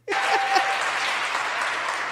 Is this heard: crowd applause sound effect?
yes